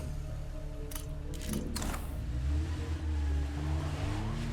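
Car driving in a video game, with an engine tone rising and falling through revs over a low rumble, a few short rattling bursts early on, then a steady gear-shifting drone to the end.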